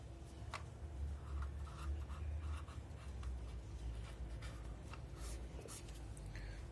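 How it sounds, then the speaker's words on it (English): Pen or marker strokes on a writing surface as problem data is written out for a lecture, soft scratchy bursts in an irregular rhythm over a low steady hum, close by and with no talking. "So first we write the given data."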